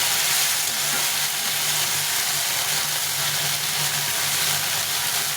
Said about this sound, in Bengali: এটা ভালো করে ভেজে নিই ভালো করে কষিয়ে নিচ্ছি